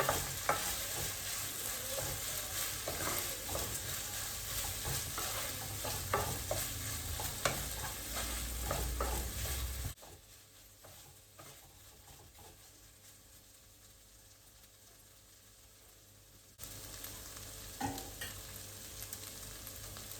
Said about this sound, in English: So we'll just fry this for a little while.